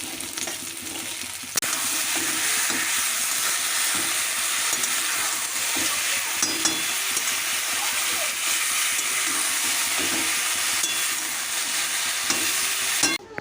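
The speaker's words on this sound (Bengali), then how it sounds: "পেঁয়াজটা ভাজছি" Onions fry and sizzle steadily in a pan, with occasional stirring scrapes, a continuous close hiss lasting throughout with no talk.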